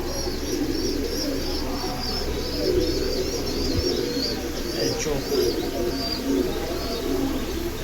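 Silver pigeons coo in a steady, overlapping murmur close by, with chirps from other birds and a brief voice now and then, all over a constant low background hum.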